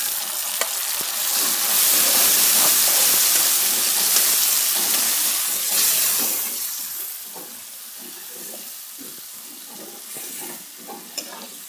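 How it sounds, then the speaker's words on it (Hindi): Chopped tomatoes frying for a beef liver dish, a loud bright sizzle and hiss that peaks early then settles to a gentler crackle with occasional stirring knocks. "टमाटर को थोड़ी देर भूनने के बाद"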